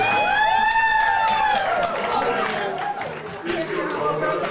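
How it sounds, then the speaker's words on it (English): An audience at a variety show applauds and cheers for a performing act, with whoops and a loud crowd roar near the start that thins out over the seconds under the noise. "please give a big round of applause to the Retirement Village people"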